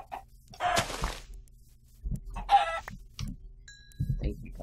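Chickens in a Pokémon Nuzlocke video game give two bursts of clucking and squawking, close and fairly loud, with quieter game sounds in the pauses between them.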